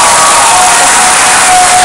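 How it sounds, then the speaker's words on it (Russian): Audience applause and cheering after a children's aerial ballet performance on a large stage, a dense, loud, steady wash of clapping and shouts filling the whole moment without talk. "полностью заслуживаете аплодисментов, которые сейчас должны раздаться"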